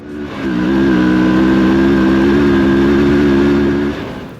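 A CFMoto 650MT motorcycle accelerates on a loose surface, its engine swelling into a loud steady drone that holds for several seconds and then eases off, with no voices.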